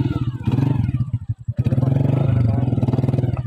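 Motorcycle engine running close by on a rural ride, a steady throbbing putter with clatter, briefly dipping before picking up again, with voices talking over it.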